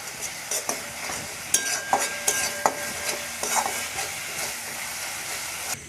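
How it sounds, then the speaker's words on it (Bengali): Ground turmeric, cumin, coriander and red chilli powder sizzle softly in oil in a frying pan for Bengali aloo dum, with a quiet continuous hiss broken by sharp spatula scrapes and clinks at an irregular pace. "সব মশলাগুলোকে এবারে"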